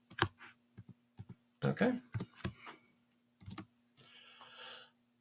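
Someone types C# code on a computer keyboard. Soft, close key clicks come in uneven bursts and pauses, and a voice speaks briefly.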